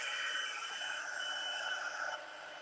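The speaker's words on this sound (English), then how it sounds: "this is the heat tool. And I'm just going to go up to number 2 and then just give me a second to heat set this" An embossing heat gun set to its second setting blows hot air over a stamped card, making a steady close whirring hiss that runs alone and drops slightly in level near the end.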